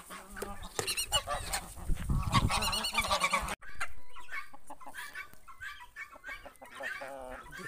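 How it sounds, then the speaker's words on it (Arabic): Poultry calls on a farm near a chicken coop, a turkey gobbling among honking, clucking fowl; loud, busy bursts for the first few seconds, then quieter scattered calls. "ديك الرومي"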